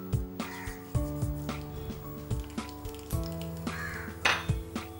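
Mustard seeds spluttering in hot oil in a copper-bottomed pan, with sharp, irregular pops and crackles over a steady sizzle, close and moderately loud.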